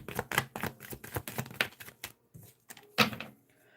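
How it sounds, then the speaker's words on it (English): A tarot deck shuffled by hand in a quiet room, giving a dense run of crisp, papery riffles and snaps in quick bursts, loud and close, with a few short pauses and no talking. "I'll do one more shuffle."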